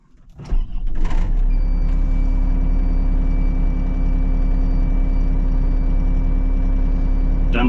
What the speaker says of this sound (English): Don't like that beeping.